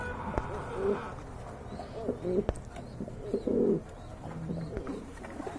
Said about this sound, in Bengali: চমৎকার এক জোড়া কবুতর অনলি আঠারোশো টাকা হলে কালেকশন করতে পারবে